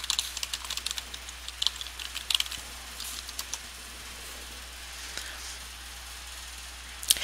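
Keys on a computer keyboard tapped in quick irregular bursts while login details are entered, fairly faint and close, with short pauses and a steady low hum beneath.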